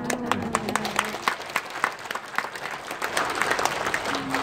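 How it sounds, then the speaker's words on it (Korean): Audience applause breaks out at a talk as a speaker tells of passing a final interview round, a steady patter of claps with sharper individual hand claps standing out, and a faint voice briefly audible. "이거 자발적인 박수 맞죠?"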